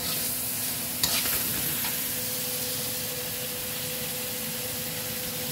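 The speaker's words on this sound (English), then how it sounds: "So I'm just sauteing the onion, garlic, and tomatoes with olive oil." Onion, garlic and tomatoes sauté in olive oil, giving a steady close hiss and sizzle with a brief clatter of a utensil near the start and a low background hum, no voices.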